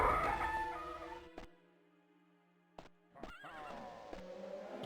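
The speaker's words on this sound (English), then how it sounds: "Why am I consistently hearing a horse?" Horse whinnying in the Daggerfall Unity game, a loud neigh at the start followed by short bursts, a quiet gap and another sharp neigh, with no voices.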